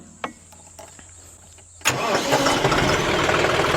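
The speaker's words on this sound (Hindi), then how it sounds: "ट्रैक्टर को कर लेता हूं मैं सीधा स्टार्ट।" A tractor engine is started, first a brief starter crank and a quiet lull, then the engine abruptly catches and settles into a loud, steady, rumbling run.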